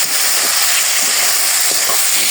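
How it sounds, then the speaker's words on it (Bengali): Food frying in a pan with salt and turmeric gives a steady, close, dense sizzling hiss with a few soft stirring knocks. "ভেজে নেব।"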